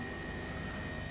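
A simulated Airbus H135 helicopter engine and rotor drone at a steady, moderate level in Microsoft Flight Simulator 2020, with the revs held constant throughout and no talking.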